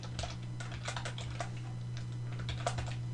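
Someone types code on a computer keyboard, making a steady stream of close, light key clicks in uneven bursts over a constant low electrical hum.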